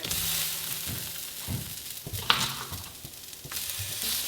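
Quartered Brussels sprouts crackle in a hot stir fry, a moderate sizzle with soft tossing thumps and one sharp spatula tap, nearby and unaccompanied by speech.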